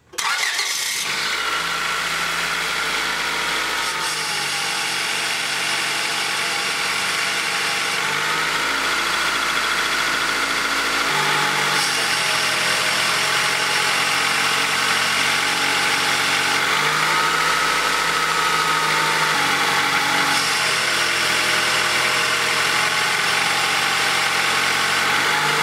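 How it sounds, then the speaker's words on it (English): A Honda car engine idles steadily, its low rumble shifting in periodic steps as RPM drops with the steering wheel at full lock, with a continuous higher power steering pump whine running over it throughout; no voices. "you can hear the power steering pump whine and the engine RPM drop when the wheel's at full lock"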